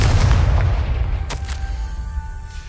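Loud, booming blast of a Confringo fire-blast spell in Hogwarts Legacy, a heavy low rumble with a sharp crack near the middle, followed by a thin ringing tone as it fades.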